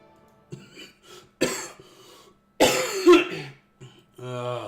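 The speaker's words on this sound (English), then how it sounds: "This cough sucks." Several harsh coughs come in separate bursts, close and fairly loud, with pauses between them and a throat-clearing sound near the end.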